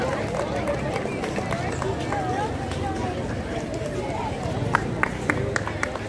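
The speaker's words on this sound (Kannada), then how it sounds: "ಜೋರ ಚಪ್ಪಾಳೆ" Sustained applause from a crowd at a Karnataka Rajyotsava celebration fills the clip, a continuous rattling of many hands, with a few sharper individual claps toward the end and faint voices underneath.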